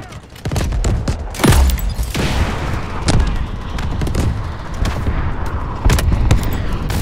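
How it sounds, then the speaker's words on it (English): Incoming artillery in the Delta Force video game lands as a loud, sustained barrage of booming blasts and gunfire bursts, with heavy impacts recurring every second or so. "Incoming artillery."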